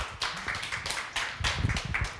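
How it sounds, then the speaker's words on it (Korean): Applause from the audience at the closing ceremony of a lifelong-learning relay lecture in Gwangju, heard as a short stretch of fairly faint, uneven clapping with irregular bursts and no talking. "큰 박수 부탁드립니다."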